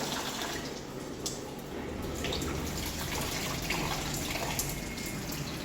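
Hot water from a low-budget instant geyser pours steadily out of a tap in an Anantapur home, a continuous splashing rush with faint drips on top, no voices.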